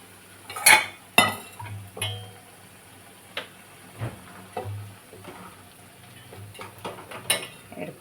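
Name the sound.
scooping fried mushrooms from a pan into another vessel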